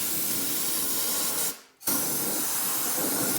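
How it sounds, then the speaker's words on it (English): Compressed air blasts dust and dirt out of the kick panel of a 1975 Ford F-150 truck: a loud, close, continuous hiss, a brief break, then a second long blast. "I'm going to blow all the dust and dirt out of this thing."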